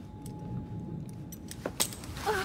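Keys jangle briefly as they are handed over in Assassin's Creed Syndicate, a few light metallic clinks near the end over a faint room hum, with no talk.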